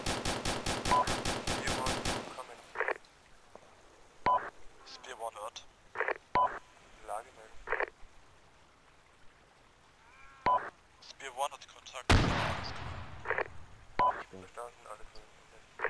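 Sharp gunshots of enemy fire during a military scene set in Sangin, starting with a rapid burst and continuing as scattered single cracks at moderate distance, with voices talking between the shots.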